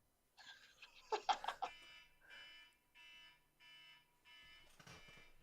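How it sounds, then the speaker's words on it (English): An old mobile phone alarm goes off close by, a run of electronic beeping tones with a busier burst of chirps early on, then steady repeated beeps with short gaps between them. "Your phone's alarm's going off."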